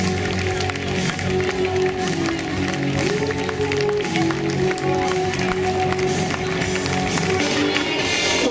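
Spectators at the Goch Steintorlauf school run clap in a sustained, dense patter of applause as the runners start, with crowd noise mixed throughout.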